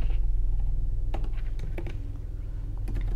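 Someone types code on a computer keyboard, producing a quick run of close, crisp key clicks in short bursts over a low steady hum.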